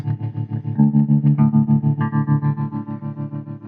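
Warm electric guitar chords through a 1960 Gibson GA-79 amplifier with the bass turned up ring out with a deep, full low end and a pulsing, wobbling modulation, played close and loud without any talking.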